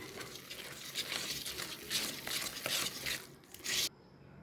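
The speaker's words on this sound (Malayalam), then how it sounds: "നമുക്ക് ഇതൊന്ന് മിക്സ് ചെയ്യാം." Dough for pumpkin bread with milk powder being mixed by hand in a bowl, giving soft irregular scraping and stirring strokes that rise and fall, close and moderately quiet, ending abruptly.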